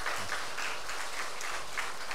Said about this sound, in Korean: 우리 모두 감사의 박수 하겠습니다.